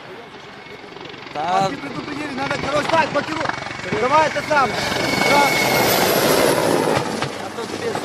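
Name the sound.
helicopter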